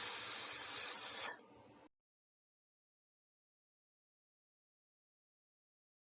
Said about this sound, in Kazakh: Жылан қалай ысылдайды?